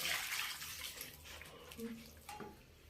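Water pours for bread dough in a steady, fairly loud stream that gradually eases off, with a few faint knocks and a brief voice near the end.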